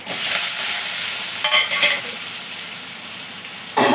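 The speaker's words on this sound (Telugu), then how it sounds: "4 ఎండుమిరపకాయలు, అయిపోయింది వేసేసాం." Dried red chillies dropped into a hot pan with cumin seeds, a loud, continuous sizzling hiss with a few surges and a sharper crackle near the end.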